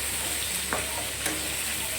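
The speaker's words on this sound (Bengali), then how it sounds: "পটল ভাজা হচ্ছে," Pointed gourd (potol) fries in oil in a pan with a constant close sizzle, while a utensil scrapes and stirs it in two short strokes.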